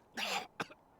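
A character in the video game Chaos;Head Noah coughs twice, a longer harsh cough followed by a short sharp one, close and fairly quiet.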